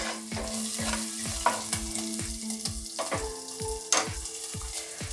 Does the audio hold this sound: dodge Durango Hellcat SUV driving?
no